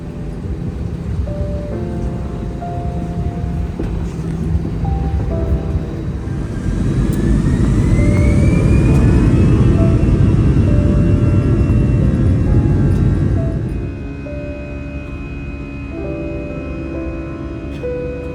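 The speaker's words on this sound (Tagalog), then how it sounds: "Cabin crew, prepare for takeoff." Passenger jet taking off, heard from inside the cabin: a steady engine roar swells as power builds, peaks loud for several seconds with a rising whine, then eases to a lower drone while airborne.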